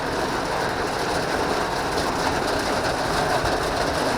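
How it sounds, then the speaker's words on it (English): Dense hail pelting a tin roof beside the River Humber, a steady loud broadband clatter and hiss filling the whole stretch without pause or voices. "as you can see, it's hailing"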